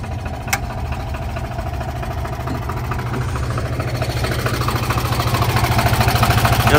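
A 70 hp Deutz-Fahr tractor with a changed turbo idles nearby, a steady low diesel throb with rhythmic pulsing that grows slightly louder and more pronounced toward the end.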